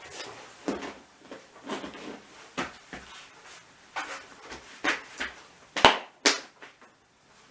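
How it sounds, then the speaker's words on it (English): A lid is fitted onto a home brew fermenter: a close series of hollow plastic knocks and clunks, then a couple of sharper snaps as it seats. "And we put the lid on."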